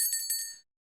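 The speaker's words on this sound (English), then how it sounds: "I have to ring the bell on myself now." A small bell struck once by a podcast host to mark time rings out with a bright, sustained metallic tone that fades away over about half a second, followed by silence.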